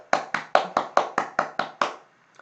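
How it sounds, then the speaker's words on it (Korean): Nine sharp hand claps in an even, brisk rhythm, close and crisp, then silence, heard in a classroom science lesson. "박수!"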